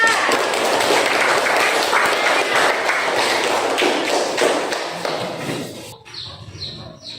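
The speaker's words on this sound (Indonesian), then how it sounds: "tepuk tangan untuk kelompok 4" A classroom audience claps steadily for several seconds for a presenting group, a dense patter of hands that fades out toward the end, leaving a few faint chirps.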